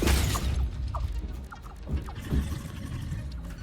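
A creature in the video game Satisfactory gives several short gobbling, fowl-like calls over a steady low rumble of game ambience, with no talking.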